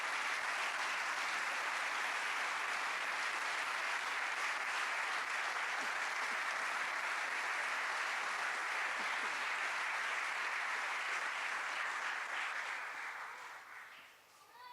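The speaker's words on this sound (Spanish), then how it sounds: "¿Habrá alguien aquí que pueda dar una ofrenda de palmas al Señor?" A church congregation gives a long, sustained round of clapping as an offering to God, dense and steady throughout before tapering off at the very end.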